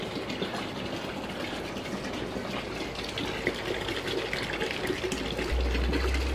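A 12 volt DC solar water pump pushing water, a constant gushing, splashing flow heard close and steady throughout, with no talk.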